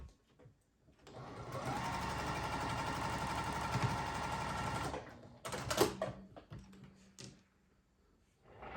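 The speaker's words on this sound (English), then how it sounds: "we're gonna sew from the edge of the white across the black" A sewing machine stitches quilt block fabric in a steady, close, continuous whir for about four seconds, then stops, followed by brief clicks and fabric handling.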